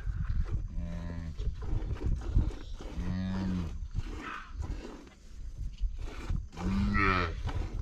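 Cattle mooing on a farm, several long low bellows rising and falling, loud and close, with rustling and low background noise between calls.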